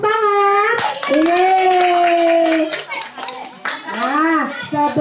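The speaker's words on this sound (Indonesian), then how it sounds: "Nakwa, tepuk tangan." Children and adults clap at a children's birthday party, with scattered claps mixed under loud, tonal children's and adult voices and a brief rise near the end.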